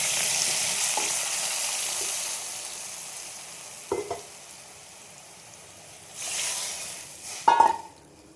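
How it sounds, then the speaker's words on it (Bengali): Washed mung dal tipped into a chili tempering in hot oil for a bottle gourd dal, giving a soft, steady sizzle with a couple of brief clatters and a louder hiss burst near the end. "এবার আমি ওই ডালটা ধুয়ে মিশে এটা দিয়ে দিই"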